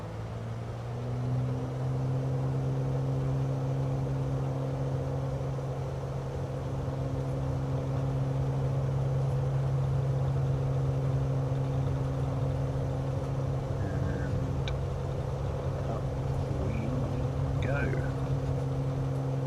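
Engine of a small propeller aircraft in Microsoft Flight Simulator 2020, a steady droning hum with strong low tones, holding at an even level with no obvious rise in pitch.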